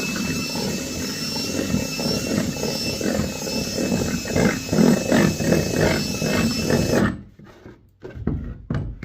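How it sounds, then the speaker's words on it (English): A power drill boring a hole whirs steadily and close by for about seven seconds, its motor buzzing rhythmically, then stops abruptly, leaving a few quiet rattles. "I may have to drill another hole"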